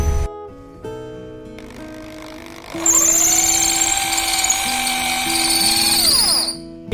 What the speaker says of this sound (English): So I've already got my drill machine here, the 8 mm drill that I was talking about.